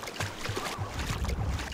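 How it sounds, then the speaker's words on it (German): Rhythmic sloshing splashes of footsteps wading through water in the video game Savage Lands, close and continuous, a few steps in quick succession. "Das Geräusch vom durch dem Wasserlaufen ist irgendwie cool."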